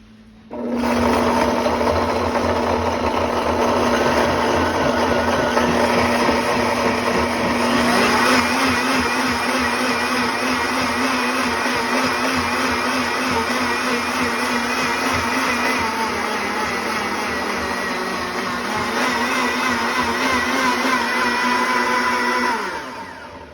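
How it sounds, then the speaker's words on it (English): A blender purees a pizza sauce with added salt, running loud and steady for about twenty seconds with a high whirring motor whine, then winding down at the end. "Make sure my blender's on."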